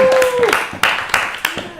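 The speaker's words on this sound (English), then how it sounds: "Big round of applause for me." Applause and scattered clapping from a stand-up comedy audience, brief and close, mixed with a voice speaking loudly over it.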